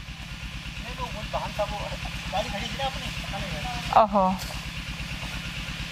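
Motorcycle engine idling outside, a low steady putter running throughout under close conversational voices, with a brief louder exclamation near the end.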